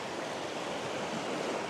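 Ocean surf splashes against a rocky beach in a steady, close wash of broadband noise, with a little wind, continuous and fairly soft throughout.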